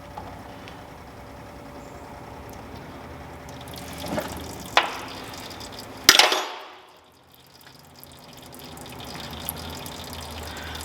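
Hydraulic oil draining from the 11/16 drain plug of a Western Ultramount Wide-Out snowplow, a steady trickling pour with a brief louder gush near the middle before it thins to a quiet dribble.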